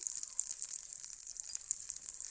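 Green pea paste sizzles in a pan, a soft steady hiss with faint crackling pops, close and alone without talk.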